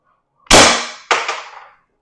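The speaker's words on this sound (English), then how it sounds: "Second shot." A single loud gunshot from a Defense Innovations DI.68 rifle during a shooting test, a sharp blast with a decaying tail, followed about half a second later by a second, weaker crack or echo, with no talking.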